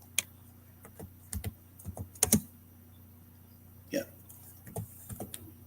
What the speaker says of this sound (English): I'm typing with my left hand, so this is not going too well.